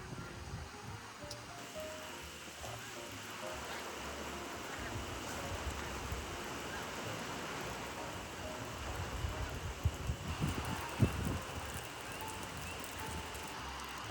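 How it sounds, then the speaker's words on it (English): Steady rain falls during a long-distance bike ride, a continuous dense hiss with scattered drops and some gusty rustling, moderately faint, with a brief louder patch near the end. "Voila, the rain is here."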